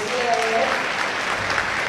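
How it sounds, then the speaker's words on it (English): An audience claps in a warm round of applause at a Kenyan entrepreneurship event, a loud and dense wash of clapping that stays even throughout, with faint voices mixed in underneath. "Let's give him another warm round of applause."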